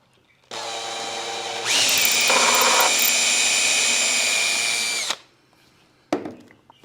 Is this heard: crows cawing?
no